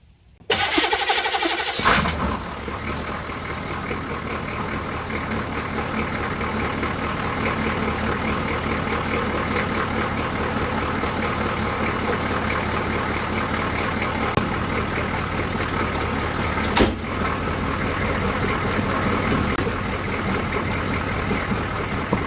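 A 1984 K-30 truck engine cranks and catches within about two seconds, then settles into a steady, loud, continuous idle that runs on unbroken with one brief rev bump.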